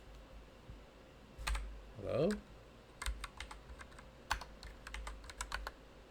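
Computer keys clicking in uneven bursts of sharp taps, close and fairly quiet, with a brief spoken word in the middle and several quick flurries toward the end.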